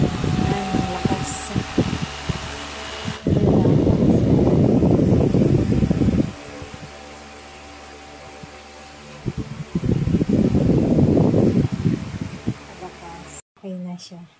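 A household electric fan fitted with a new protective cover runs with a steady whooshing hum, swelling louder in two bursts of stronger airflow, while a person talks over it in Filipino.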